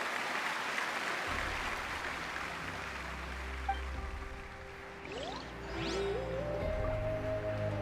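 Crowd applause at a parade celebration in the Genshin Impact video game, a steady wash of clapping and cheering that runs through the whole stretch, with a few rising synthetic tones near the end.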